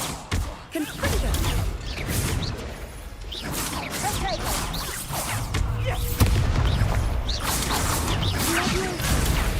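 Spell combat in Hogwarts Legacy with a Confringo blasting spell: repeated whooshing casts and booming impacts with crackling debris, dense and loud, over a busy game soundscape with occasional voices.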